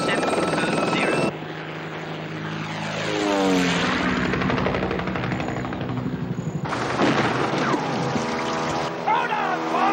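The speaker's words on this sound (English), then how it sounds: "Mr. Perimeter, aircraft is reaching control zone" A helicopter-like aircraft approaches a control zone, its beating rotor and engine roaring loud and near. The pitch sweeps as it passes, and sharp cuts break the sound between scenes.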